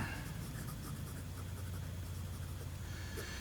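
Nib of a new old stock vintage Sheaffer Craftsman fountain pen with a medium steel nib scratching steadily across paper, a soft continuous close scratch over a low background hum.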